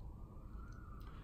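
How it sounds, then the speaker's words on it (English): An emergency vehicle siren wails faintly with a steady rising tone as it passes outdoors, sitting over a low rumbling background. "Sorry about that siren."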